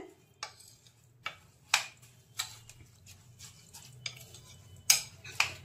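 Govindobhog rice being mixed with melted ghee, turmeric, ginger paste, sugar and salt, heard as scattered soft clicks and scrapes of a utensil against the bowl, about one every half second, fairly quiet.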